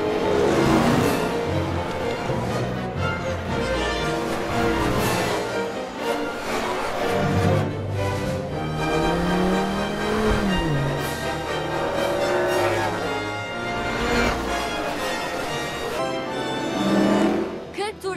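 Race cars from a Cars video game racing in a season-finale race, engines humming and whining continuously under lively commentary and music, with occasional rising engine pitch, loud and constant throughout.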